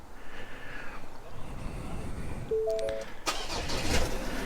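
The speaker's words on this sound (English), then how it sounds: "I'm going to crank the truck up" A Ford Ranger PX2 pickup engine cranking and firing up, brief starter whir followed by the engine catching and settling into a running idle, fairly close and moderately quiet.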